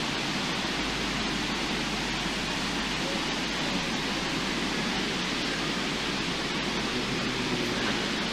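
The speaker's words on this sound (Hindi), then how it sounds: "how we hear the sound of the river water flowing" River water flows steadily at Balakot, a dense, continuous broadband rush heard close with no breaks, with faint voices beneath it.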